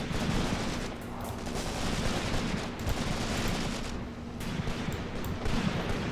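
Machine gun fire crackles continuously in the Graviteam Tactics: Mius Front war game, dense overlapping bursts and distant shots forming a steady, moderately quiet battle din with no speech.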